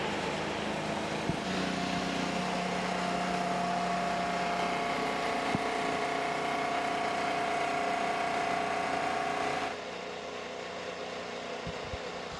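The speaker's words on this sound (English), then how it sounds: "drivers, start your engines" IndyCar race car engines idle together on the grid at the Detroit Grand Prix street circuit, a steady, droning mechanical hum with a sustained tonal whine that drops slightly in level toward the end.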